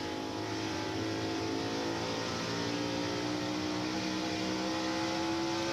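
NASCAR stock cars race at the 2003 Subway 400, their engines making a loud, continuous roar that drones on steadily with no break and no talking.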